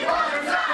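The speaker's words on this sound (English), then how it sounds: "That's Tommy Rinks getting his hometown crowd to chant along." A hometown crowd at an independent wrestling show chants along together, a brief, loud burst of massed voices in an indoor venue.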